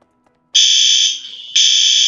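A fire alarm blares in two loud, steady electronic bursts with a short dip between them, close and alone after a moment of near silence.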